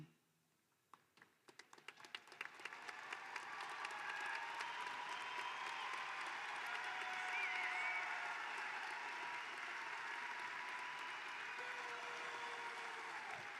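Sustained applause from a large audience at a university commencement, building from a few scattered claps into a steady, dense roar that carries on for over ten seconds.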